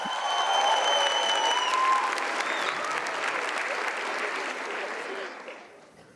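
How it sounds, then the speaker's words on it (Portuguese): Church congregation applauding at a Catholic service, steady dense clapping close and loud from the start, slowly thinning and fading toward the end, with a few faint voices mixed in. "Pode aplaudir."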